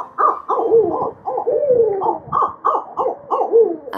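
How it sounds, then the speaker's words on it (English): A barred owl pair gives close, loud territorial cackling, a rapid series of hooting barks and drawn-out wavering calls that tumble over each other in an uneven rhythm. "It's a pair of them, emphatically claiming their territory."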